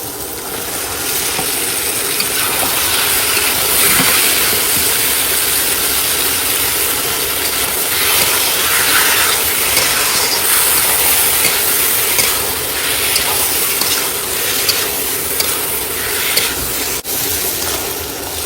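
Meat sautés with fried spices in a pan, giving a loud, steady, dense sizzle with continuous scraping and rattling of the stirring utensil, close up and with no talk.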